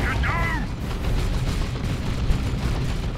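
Heavy vehicle weapon fire in Warhammer 40K Dawn of War II: Retribution, rumbling booms and explosions rolling continuously under a dense battle mix, with a short shouted voice effect at the start.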